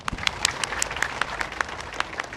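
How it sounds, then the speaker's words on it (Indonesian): Lively audience applause at a regency government declaration event in Semarang, with close, sharp individual claps over a steady crowd wash, fairly loud throughout. "Coba tepuk tangan yang meriah."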